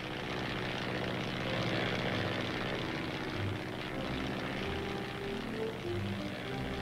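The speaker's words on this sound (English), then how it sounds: "The tower gives him clearance, and the plane starts moving across the airstrip." A propeller plane taxis across an airstrip, its engine giving a steady, droning rumble at moderate distance with a slightly wavering pitch and no voices over it.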